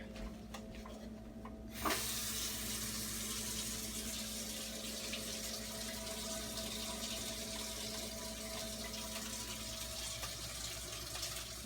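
Steady rush of hot water pouring from a kitchen tap, continuous and fairly close, after a brief quieter moment at the start.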